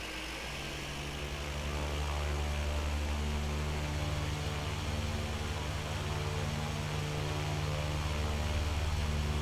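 Aircraft in the Air Hauler 2 flight game settling onto a runway, a steady, loud engine drone with broadband rushing noise holding evenly throughout, no voices.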